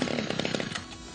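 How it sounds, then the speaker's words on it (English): Stihl chainsaw with Easy to Start, a fast rattling engine burst with rapid regular pulses that sputters and fades within about a second, close and fairly loud. "you can literally start your Stihl trimmer or chainsaw with two fingers"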